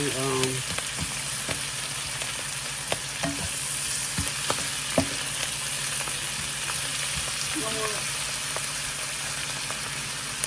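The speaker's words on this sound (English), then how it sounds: "So just stir frying this up." Vegetables, including kale, sizzle and crackle steadily in a hot pan, with occasional clinks of a utensil stirring through them; no one speaks.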